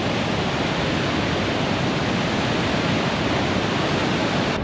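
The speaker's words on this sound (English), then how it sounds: "So there's no doubt that I love water. I love the sound it makes." Steady roar of falling water at Pillar Falls near Twin Falls, Idaho, a dense, unbroken rush that stays loud and constant throughout with no voices, cutting off just before the end.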